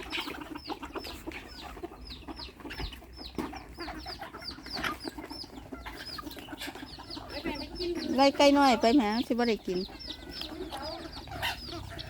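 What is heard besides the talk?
bantam chickens clucking at evening feeding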